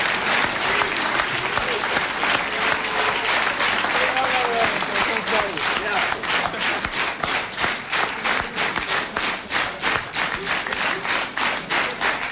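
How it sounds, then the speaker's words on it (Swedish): Studio audience at a Swedish television game show finale applauding, a dense burst of clapping that settles into a rhythmic, pulsing beat of synchronized claps toward the end. "Ja, vi kan ge dem en riktig applåd,"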